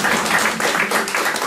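Audience applause at a live French-language event as a new guest is welcomed to the stage, a steady dense wash of clapping filling the short moment without voices over it.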